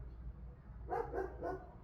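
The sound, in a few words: neighbor's dog barking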